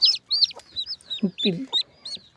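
A hen clucks in low, soft bursts while her newly hatched chicks peep in quick, high chirps throughout, close by and fairly loud.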